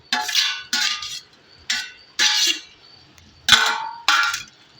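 Three finely chopped raw tomatoes go into a pan of hot water, a spoon or ladle tipping them in with about six short, clattering scrapes against the metal, close and fairly loud with brief pauses between.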